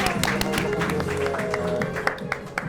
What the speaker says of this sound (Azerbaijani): Böyük bir alqış, ürəkdən alqış.